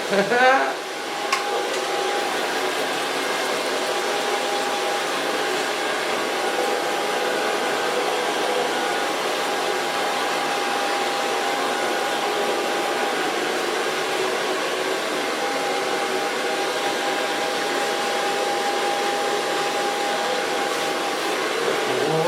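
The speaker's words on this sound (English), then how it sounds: "So far blow dry." A handheld hair dryer runs steadily, blow-drying short hair at a salon in one continuous, loud, close airy whir that barely changes for the whole stretch.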